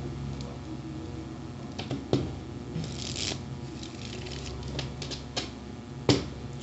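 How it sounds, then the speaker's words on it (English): Tarot cards being shuffled by hand, soft papery riffles and flicks with a few sharper snaps scattered across the stretch, quiet and close. "Shuffle ko lang ang cards."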